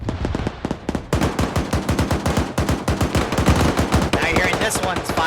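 Heavy gunfire in a military video game, including a .50 cal: rapid automatic bursts crack in dense overlapping strings, loud and close, with sharp repeated reports nearly continuous across the clip.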